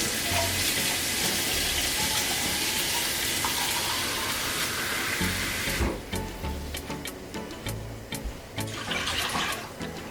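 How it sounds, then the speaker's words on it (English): Water runs steadily into a cooking pot of coconut milk and thyme for chicken fricassee: a loud, continuous gushing pour that stops about two thirds through, leaving faint clinks and drips. "Just add some water."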